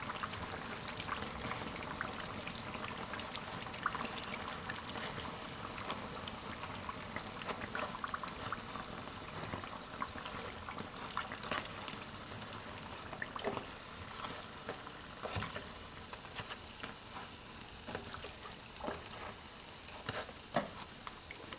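Small potato flour cakes fry in hot oil, a soft continuous bubbling sizzle with scattered crackles and occasional louder pops, fairly quiet and without voices.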